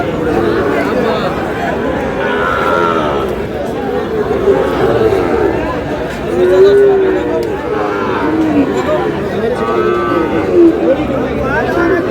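Sahiwal cattle low several times over the steady murmur of a busy crowd at a cattle market in Chattogram, with people talking nearby throughout.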